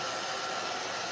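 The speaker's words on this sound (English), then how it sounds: "All right, I'm gonna go ahead and use my hairdryer." Hair dryer blowing steadily and loudly up close over a watercolor painting of a winter river landscape, a constant broadband whoosh with no talk over it.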